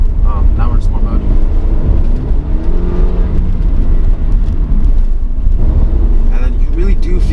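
Mercedes CLA250 in sport mode accelerating hard as its turbos kick in, a steady loud engine roar and road drone heard from inside the cabin, with some talk over it.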